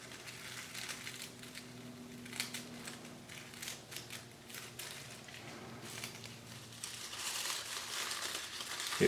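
Fragile shed snake skin crinkles and crackles steadily as it is handled and cut, a close, dry rustle running throughout with brief sharper crunches.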